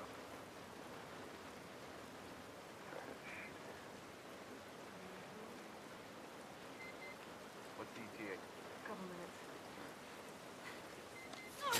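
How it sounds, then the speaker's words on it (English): Steady, faint rain hiss falls over a rainy scene in the video game The Last of Us, a soft continuous wash with a few slightly louder patter moments and a low murmur of voices underneath. "Love the attention to detail, the rain falling off their faces."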